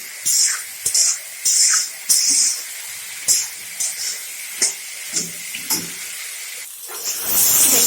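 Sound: frying vegetables and ginger in a pan

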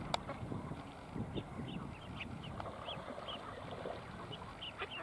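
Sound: ducks quacking

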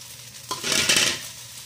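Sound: shrimp and squid being stirred while frying

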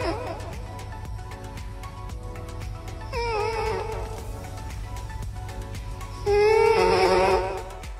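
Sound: sleeping cat sounds close to microphone

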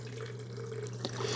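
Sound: water poured into BUNN coffee maker reservoir

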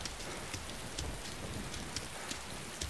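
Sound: rain in DayZ video game thunderstorm

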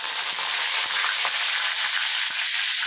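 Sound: curry leaves sizzling in hot coconut oil

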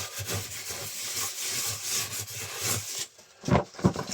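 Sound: scraping and brushing rabbit enclosure floor clean

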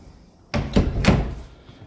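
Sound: pantry double doors being opened

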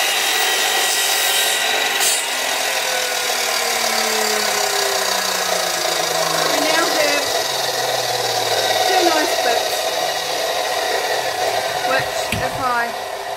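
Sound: saw trimming a wooden box piece

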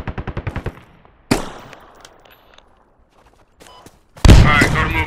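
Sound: gunfire from a video game

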